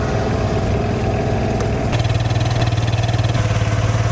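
A 2008 Piaggio Fly 150 scooter, which had been run without oil and then had its crankshaft replaced, fires up and settles into a steady, close, pulsing idle with an even rhythmic putter. No one speaks.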